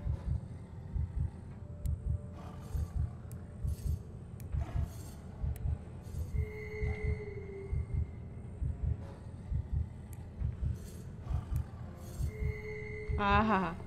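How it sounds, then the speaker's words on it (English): A slow, rhythmic heartbeat throbs steadily in the Vermillion Watch: London Howling hidden-object game, with occasional chimes and tones from the game over it. "Listen to that heartbeat."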